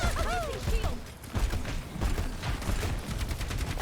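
Overwatch gunfire rattles in rapid bursts amid in-game combat effects and mechanical clanks, loud and close, with a game voice briefly sounding early on.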